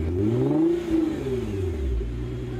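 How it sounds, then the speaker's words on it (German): V8 car engine revving, a deep rumbling rise and fall in pitch that climbs, eases off and swells again, loud and close with no talking. "So ein kerniger V8-Sound."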